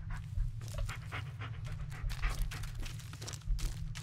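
A dog in the Blair Witch video game panting rapidly while running alongside, a steady close breathy rhythm over a low constant hum.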